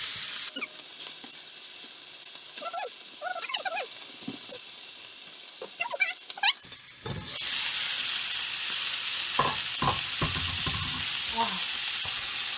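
Pork belly and green onion rolls fry in a 30 cm frying pan with a steady, loud sizzle throughout. The sizzle swells brighter partway through, while light utensil clicks and faint voices sit underneath.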